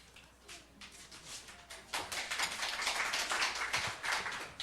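A church congregation claps for a preacher stepping up to give a Sunday sermon, scattered light claps at first that swell into fuller, steady applause, heard from within the room.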